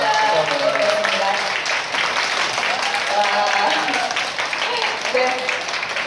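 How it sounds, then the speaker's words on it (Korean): Audience applause at a talk concert on the Seoul Citizens Hall stage, a dense steady patter of many hands lasting throughout, mixed with crowd murmur and voices underneath. "다시 한번 큰 박수 부탁드립니다"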